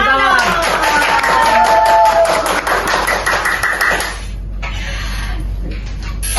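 Audience clapping to welcome a history lecturer from Universitas Hasanuddin onto a Makassar podcast set, a dense burst of hand claps overlapping with music and voices that thins out after about four seconds into quieter room noise.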